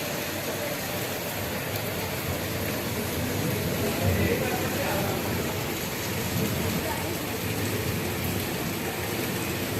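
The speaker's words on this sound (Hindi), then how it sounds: "अभी बारिश हो रही है।" Steady rain pours down in a constant, even hiss, with a faint murmur of voices underneath.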